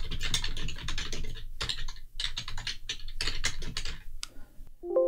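Rapid typing on a computer keyboard clatters in dense, irregular bursts of keystrokes, fairly close and steady, with a short tonal beep at the very end.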